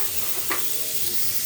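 Grated beetroot hitting hot oil in a pan with nigella seeds and chilli, giving a steady frying sizzle with a brief clatter of stirring midway and no voices.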